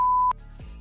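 A short, pure censor beep sounds at a steady tone for about a third of a second, loud and clean, then cuts off into a faint room hum.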